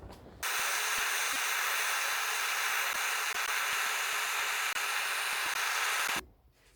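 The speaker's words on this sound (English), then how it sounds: "Let me get my torch and heat up the mold." Gas torch heating a mold for casting bronze from copper and tin, a loud steady roaring hiss that starts abruptly, holds evenly for about six seconds, then shuts off.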